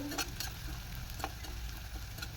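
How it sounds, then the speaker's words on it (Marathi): Turmeric stirred and sautéed in a hot oil tempering for a gram-leaf vegetable dish, giving a soft steady sizzle broken by a few light spatula scrapes. "इथे मी पाव चमचे हळद घालून घेते आता हळदीला पण चांगला आपण परतून घेऊ"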